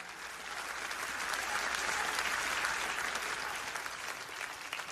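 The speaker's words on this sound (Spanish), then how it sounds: "denle un aplauso de alabanza a nuestro Dios" Congregation in a Spanish-language church service led by Jimmy Swaggart applauding in praise of God, a steady broad wash of many hands clapping that swells slightly in the middle and holds for about five seconds.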